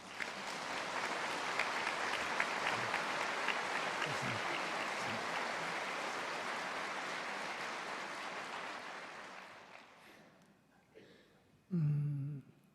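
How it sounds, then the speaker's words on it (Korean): A church congregation claps to welcome the pastor at a Sunday evening anniversary revival service, broad dense applause swelling then fading out near the end, followed by a brief burst of louder sound after a short lull. "오늘 목사님 나오실 때 박수로 환영하겠습니다"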